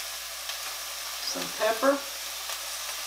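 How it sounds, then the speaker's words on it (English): Ground beef, onions and peppers saute in a hot pan, a steady low sizzle running throughout with a few brief stirring scrapes near the middle and a short spoken phrase over it. "Ground beef, onions, and peppers are sauteed."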